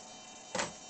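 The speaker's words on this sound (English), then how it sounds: "What you're hearing is the throttle servo." A small throttle servo in a Mugen Seiki MBX6 RC car gives a quick electric whir, one short burst over a steady background hum, close by.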